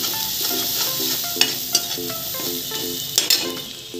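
Masala paste with turmeric roasting on a low flame for dum aloo, heard as a soft sizzle under repeated scraping of a spoon, with a few sharp metallic clinks against the pan.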